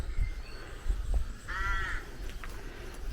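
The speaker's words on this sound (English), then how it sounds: "this place is just home to the rooks and the ravens, well, not the ravens, the crows" A single crow caws from inside a ruin, a clear harsh call over low rumbling wind and background noise, fairly close and heard alone.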